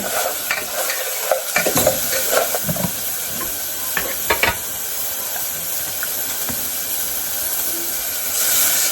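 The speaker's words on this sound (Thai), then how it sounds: "คนไปคนมาให้เนื้อมันหดตัวนะคะ" Minced meat sizzling and hissing in a hot pan while being stirred, with steady frying noise and scattered scraping knocks of the utensil against the pan, close and continuous.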